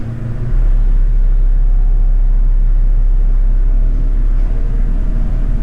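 Montgomery hydraulic elevator motor running at a Von Maur store in Louisville, a constant close low hum and rumble that starts after a brief quieter moment and holds steady without talk.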